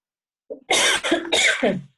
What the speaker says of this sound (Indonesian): Nah ini batuk ya Bu